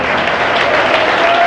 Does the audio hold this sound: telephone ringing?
no